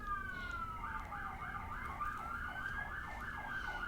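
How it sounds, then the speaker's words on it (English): A wailing emergency siren cycles steadily up and down in pitch, sustained and fairly close, over a constant low rumble of traffic. "That sweet siren trying to come through."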